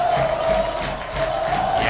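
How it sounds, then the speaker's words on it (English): A stadium crowd roars after a home goal in a 2017 soccer match between CFC and Inter Nashville: a steady, loud wall of cheering and shouting with a sustained tone running through it. "The crowd is going absolutely ballistic."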